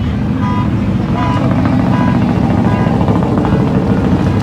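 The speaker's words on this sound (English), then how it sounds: "Oh, we got a car alarm." Car alarm going off at a car show and drag race at Irwindale Speedway, a steady repeating electronic tone blaring over loud engine and crowd noise for the whole stretch.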